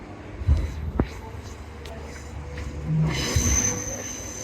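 Transperth passenger train rolling slowly through stadium sidings, heard from on board: low rumble and wheel thumps over track joints, with a faint high squeal, while a voice speaks over it.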